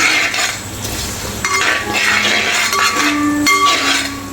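Fish pickle with turmeric powder being stirred in a pan, a spoon scraping and clinking against the metal in steady, close strokes over a soft sizzling background.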